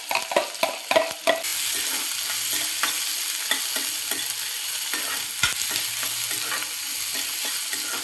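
Chopped onion (two large ones) hitting hot oil with golden-browned garlic in a pan for a French bean sabzi, giving a steady close sizzle with stirring clatters near the start and no talking.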